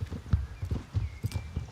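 Galloping hoofbeats of a Brabant draft horse in a video game, a steady rolling clip-clop rhythm of several heavy thuds per second, close and clear with no talk over it.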